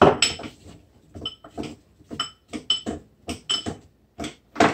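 A spoon stirring oats in a bowl, about a dozen distinct clinks and scrapes in an uneven rhythm, close and clear with silence between strokes.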